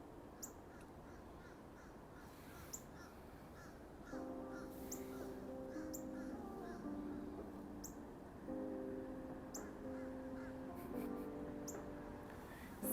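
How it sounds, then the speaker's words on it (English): Crows caw repeatedly in a park, harsh calls coming in bursts alongside other bird calls, moderately near against a quiet outdoor background with no talking. "These birds are really having a good time today,"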